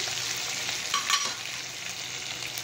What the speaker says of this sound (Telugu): నెక్స్ట్ ఇందులో ఉల్లిగడ్డ, ఇవి కొంచెం వేయించుకోవాలి